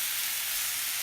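Quail roasting in a pan over medium heat gives a continuous, loud, even sizzle of hot oil with no pauses or voices.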